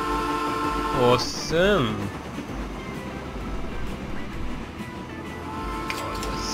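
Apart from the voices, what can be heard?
trains running on a rail line in the video game Train Fever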